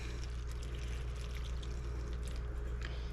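Water poured into the bottom of seedling trays of dry soil, a steady soft trickling wash with faint splashes, fairly quiet and continuous, no voices.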